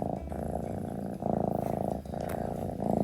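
A domestic cat purrs steadily and close up, a continuous low rumbling in rhythmic breaths with brief pauses, heard alone without talk, among a mother cat and kittens.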